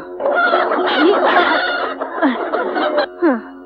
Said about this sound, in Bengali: তুমি বরং আমার ওই বড় মোরগটা নিয়ে যাও